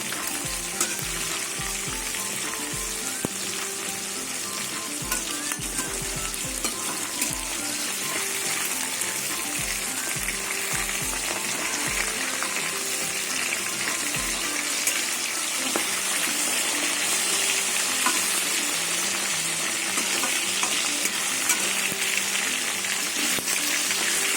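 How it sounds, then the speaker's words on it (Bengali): Katla fish frying in a pan in a home kitchen, a steady loud sizzle with crackling pops running throughout, with no talk over it. "একদিকে মাছ ভাজা হয়ে গেছে উল্টিয়ে দেবো মাছগুলো"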